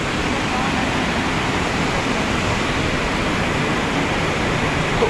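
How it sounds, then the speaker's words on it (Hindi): Steady broadband roar of a waterfall on a jungle bamboo-trail trek, loud and continuous throughout with no breaks, filling the whole scene. "भाई ये है अपना झरना, भाई देखो दोस्तों देखो झरना"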